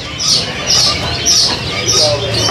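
Canaries, loper type, kept by the hundreds at a kiosk in Pasar Pramuka market chirp and trill in repeated bright bursts, fairly close, with a busy market murmur underneath.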